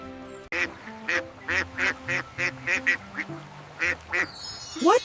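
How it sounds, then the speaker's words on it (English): A duck quacks loudly in a steady series of about a dozen close, evenly spaced nasal calls, ending with a rising squawk. "This is a duck."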